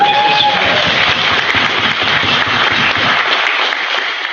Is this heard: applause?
yes